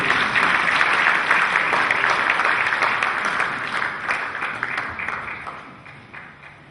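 A church congregation applauds to welcome a speaker, a dense, even wash of many hands clapping that holds steady before slowly tapering off.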